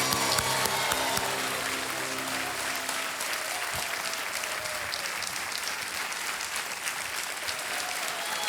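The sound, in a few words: studio audience applause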